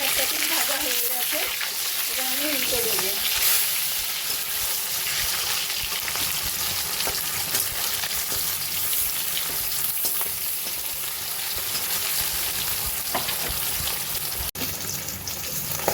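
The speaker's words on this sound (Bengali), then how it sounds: "এদিকে আমি চার পিস রুই মাছ নুন হলুদ মেখে নিয়েছি এই মাছটা কড়াইয়ে দিয়ে দেবো" Rohu fish pieces rubbed with salt and turmeric fry in hot oil in a wok, giving a steady broadband sizzle that holds for the whole stretch, with faint kitchen clatter and a voice briefly near the start.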